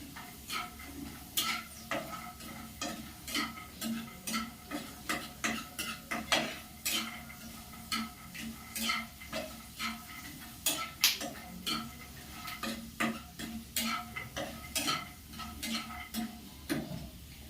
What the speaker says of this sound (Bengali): তার জন্য আমি বাদামগুলোকে ভেজে নিচ্ছি।